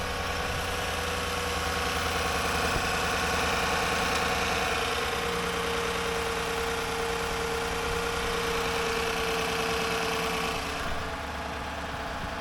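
A 2014 GMC Sierra pickup's engine idles steadily just after an oil change, a constant low rumble with a faint whine, close and unbroken throughout with no talking.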